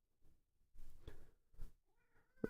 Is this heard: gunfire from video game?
no